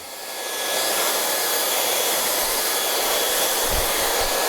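A hair dryer blows steadily and loudly at close range while hair is being blow-dried, a constant rushing whoosh that holds level for the whole stretch with no talk.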